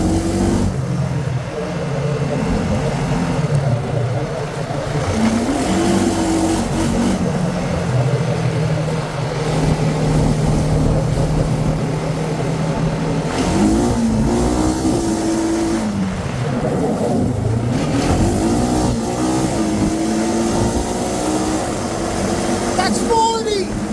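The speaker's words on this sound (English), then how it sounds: "That's a 25-mile-an-hour power slide." A Honda Rancher ATV engine drones and rises in pitch during a trail-ride power slide, loud and continuous, with voices talking over the motor for much of the stretch.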